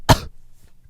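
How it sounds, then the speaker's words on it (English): A single short, sharp cough sits in a song, close and loud, followed by a quiet low beat. "Even a cough. His cough."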